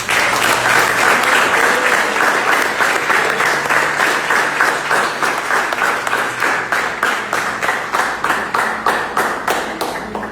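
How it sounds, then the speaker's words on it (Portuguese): A church congregation claps in praise, dense and loud at first, then settling into a steady rhythmic unison beat that holds to the end, with no voices over it. "As palmas louvam o Senhor Jesus"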